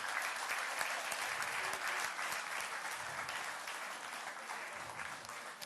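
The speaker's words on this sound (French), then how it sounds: "On peut les applaudir." Audience applause at a sportsperson-of-the-year awards ceremony held in a lycée, a continuous even roll of many hands clapping, moderately distant and steady across the whole stretch.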